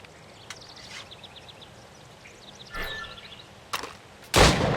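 Target practice with a firearm in Assassin's Creed Rogue, a few sharp shots ringing out one after another and ending in a loud blast, over a faint outdoor bed with birdlike calls.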